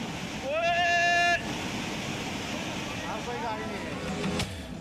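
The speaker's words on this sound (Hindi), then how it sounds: "ये कितनी तेज़ पानी का बहाव है" Fast-flowing flash flood water rushing in Dharamshala after a cloudburst, a steady broadband roar throughout, with voices and a brief high tone cutting in over it near the start.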